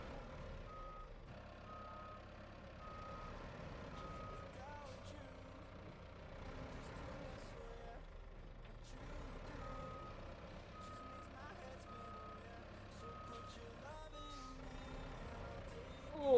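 Reversing beeper of a sluggish truck in a video game, steady repeated electronic beeps over a low idling engine rumble, with a voice talking at times.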